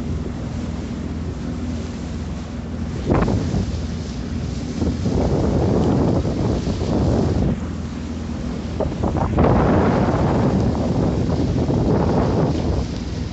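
Strong wind buffets the microphone while waves wash against a sailboat motor sailing, a low engine hum running steadily underneath.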